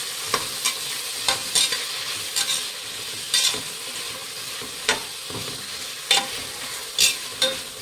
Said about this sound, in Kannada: ಇದನ್ನು ಫ್ರೈ ಮಾಡಿ